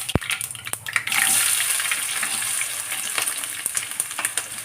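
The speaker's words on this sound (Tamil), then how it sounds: "நம்ம இதில் வெங்காயம் போட்டுக்குவோம்." Onions go into hot oil with mustard seeds and a loud, steady sizzle breaks out close by, followed by light clinks and stirring through the frying.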